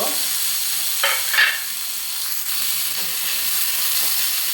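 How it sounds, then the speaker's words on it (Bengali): Lightly salted vegetables fry in a pan for a Maggi omelette, giving a loud, continuous sizzle. A brief stirring scrape rises just after the first second. "এরকম করে আরও 2-3 মিনিট ভেজে নেব সবজিগুলো, যাতে সিদ্ধ হয়ে যায়"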